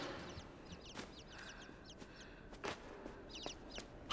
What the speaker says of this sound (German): Ich höre schon wieder so komische Vögel. Also unsere gefiederten Freunde.